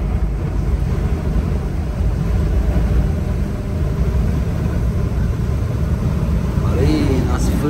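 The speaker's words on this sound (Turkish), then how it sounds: "Nasıl fırtına var arkadaş." Storm wind buffets a truck driving in Norway, a loud constant roaring rumble with low-frequency gusts pressing on the cab throughout, no talk heard.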